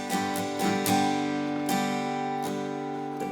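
Acoustic guitar strummed with alternate chord voicings in a worship song, steady ringing strums with repeated attacks about every half second, played alone without voices.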